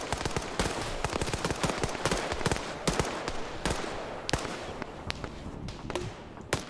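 Enemy gunfire in a video game, a fairly quiet rapid series of sharp cracks and pops in uneven bursts throughout, with no talking.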